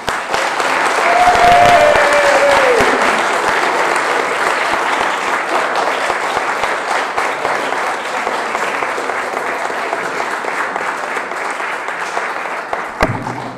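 An audience at the Cosmic Reunion talk breaks into steady applause that fills the room, loud at first and then holding level for several seconds.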